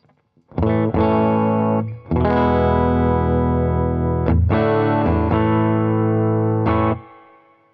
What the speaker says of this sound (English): So a very versatile, modern playing Strat. Let's have a listen. Bridge pickup.